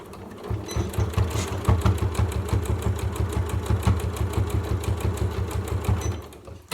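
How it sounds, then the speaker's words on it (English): A sewing machine stitches close to a fabric edge on a storage caddy, its needle thumping in a fast even rhythm, near and steady, then slowing to a stop. "I'm just going to sew very close to the edge, catching in the seam, and then sew off."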